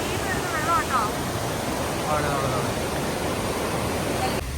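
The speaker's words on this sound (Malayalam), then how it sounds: "ഫുള്ള് വെള്ളച്ചാട്ടങ്ങളാണ്" A continuous broadband rush of falling water from several waterfalls in Finland fills the scene, with brief voices speaking over it.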